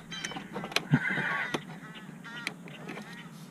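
Fowl squabble outdoors with a burst of nasal honking and quacking calls, one sharp cry standing out, then quieter chatter.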